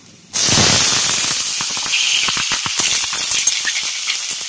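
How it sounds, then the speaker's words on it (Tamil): Onions, green chilies and curry leaves drop into hot oil already holding cloves, cinnamon and cardamom, setting off a sudden loud burst of sizzling that settles into close, continuous crackling hiss. "வெங்காயம், பச்சை மிளகாய், கருவேப்பிலை எல்லாம் சேர்த்துடலாம்."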